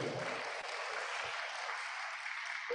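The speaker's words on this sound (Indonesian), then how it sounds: "Tepuk tangan untuk Anda semua." An audience at a university engineer oath-taking ceremony applauds in a steady, dense wash of clapping that fills the hall from start to finish.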